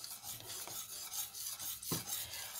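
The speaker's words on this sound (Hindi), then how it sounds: "अब मैं इसको हिलाती हूँ क्योंकि नीचे ना लग जाए ना" A spoon stirs thickening khoya in a pan, scraping and rubbing the bottom in steady, faint strokes, close by with no talking.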